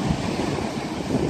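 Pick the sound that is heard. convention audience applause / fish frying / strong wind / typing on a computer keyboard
strong wind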